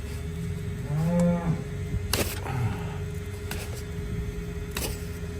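A cow at a hoof trimming, with broken rocks embedded in her foot, gives one low moo close by, followed by sharp clacks over a constant mechanical hum.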